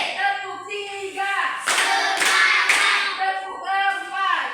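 A group claps in counted bursts during a classroom ice-breaking clap game led by a teacher, sharp loud claps in quick clusters between children's sung or chanted voices.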